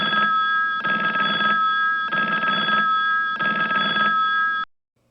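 Looped telephone ringing sound effect: a loud electronic double-tone ring repeating in four evenly spaced bursts, each cutting off abruptly with no decay, then sudden silence.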